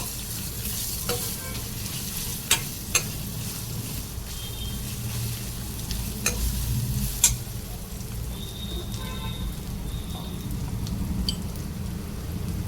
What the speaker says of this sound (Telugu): హాఫ్ కేజీ బీరకాయ ఇది మంచిగా ఫ్రై చేసుకుందాం